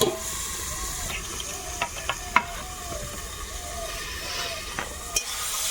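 Salted, turmeric-coated shrimp sizzle in a covered pan, a constant steamy hiss with a few soft clinks and small pops scattered throughout.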